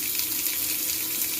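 Hot water streams from a kitchen tap in a continuous, close, splashing gush with no voices over it.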